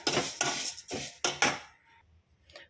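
Vermicelli roasting in a pan is stirred briskly, the utensil scraping and clinking against the metal in five quick, close strokes, then a pause with a faint last scrape.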